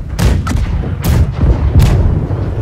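Cannons on a ship's left side firing in the Blackwake naval combat game, four loud close booms spaced roughly half a second apart, each a sharp blast with a rumbling tail, no voices.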